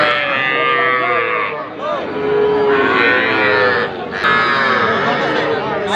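A young heifer calf at a rural cattle market lets out several drawn-out, wavering moos, loud and close, with people talking in the background.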